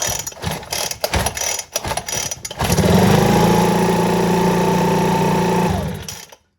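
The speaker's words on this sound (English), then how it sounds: "the pull cord appears to be working just fine" A Ryobi leaf blower has its pull cord yanked several times in ragged bursts, then the small engine catches and runs steadily for a few seconds before cutting off, close and loud.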